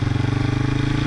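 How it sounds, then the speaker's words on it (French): A quad bike engine runs hard during a gear change, a loud close throbbing drone with a fast regular pulse and no talk over it. "Dès que je sens que mon moteur il commence à gueuler, j'embraye et je viens lever le pied."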